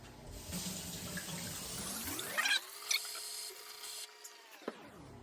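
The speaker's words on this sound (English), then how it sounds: "we're going to go and wash our hands for the 3rd time" Running tap water splashes over hands at a kitchen sink while washing up during chicken wing prep, a steady close rush that shifts in pitch as the hands move, then cuts off near the end.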